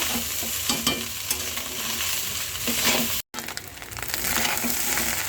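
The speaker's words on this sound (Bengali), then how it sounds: "যে ভাত ভাজাটা মশলার সাথে ভালো করে মিক্স করে নেব।" Fried rice being stirred and tossed with spices in a hot pan, with scraping strokes over a steady frying hiss and a brief dropout partway through.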